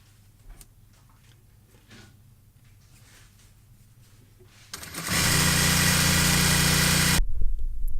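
A sewing machine stitches a notched collar, starting after quiet handling noises and running in one loud, steady mechanical burst of about two seconds before stopping abruptly.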